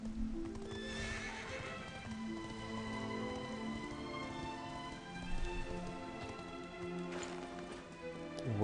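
Horse hooves in Dragon Quest XI S, a steady clip-clop of a galloping game horse with an occasional whinny, layered over soft rain and a looping music bed, moderately loud and continuous.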